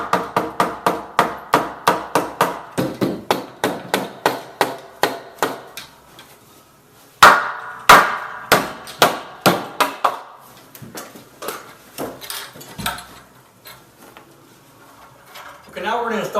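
Hammer taps knock wall studs loose from the inside of an exterior brick wall during door framing, first as a quick run of evenly spaced blows, then two sharper hits and slower, scattered strikes, close and loud.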